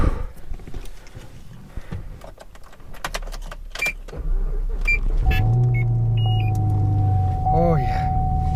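A 2007 Chevy Tahoe with a V8 starts moving, its engine rising into a steady low drone that fills the second half, preceded by clatter and handling noises inside the cabin.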